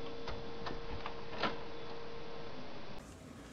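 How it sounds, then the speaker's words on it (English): A desktop printer prints onto the back of a QSL card with a steady mechanical hum and quick repeated ticking of the print head, fairly close and alone, then cuts off near the end. "It's actually going to print the information right on the back of the QSL card"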